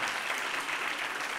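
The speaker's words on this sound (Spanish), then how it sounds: "Un aplauso para Juan Pablo." Audience applause for a child contestant at a children's reading contest, a short burst of dense, continuous clapping from many people at moderate level, no voices over it.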